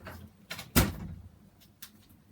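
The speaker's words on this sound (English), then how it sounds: "let me just close the door" A door is shut indoors with one sharp, loud thud, followed by fainter knocks and rattles as it settles, with no talking.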